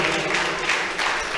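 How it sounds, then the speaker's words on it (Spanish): Church congregation clapping as an offering of praise during a Spanish-language service, a brief dense burst of many hands with rhythmic swells. "Una fuerte ofrenda de palmas al Señor por los amigos"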